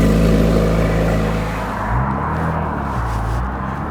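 Porsche 987.1 Cayman S mid-mounted engine running steadily, a loud, close, deep idle hum with a slight rise in revs partway through, no voices.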